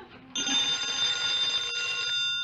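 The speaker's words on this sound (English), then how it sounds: "Answer the phone." A telephone bell rings loudly and continuously in a studio comedy broadcast, a steady bright metallic trill that starts abruptly and carries on without talk over it.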